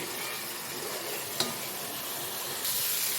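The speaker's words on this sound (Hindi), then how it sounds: "अब हम इसको पकाएंगे जब तक हमारे टमाटर अच्छी तरह गल ना जाए और हमारा मसाला ऑयल ना छोड़ दे" Tomato masala frying in oil for kabab handi, a steady broadband sizzle with one sharp stir or clink near the middle, close and moderately loud, no talking.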